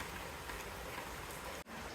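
Heavy rain pours steadily on a Janmashtami day in a Konkan village, a dense, close, continuous wash of drops with one brief dropout near the end.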